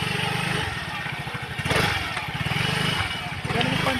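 A motorcycle engine chugs and pulses steadily as it rides over a rough, rocky, muddy road, with people talking over the engine noise throughout.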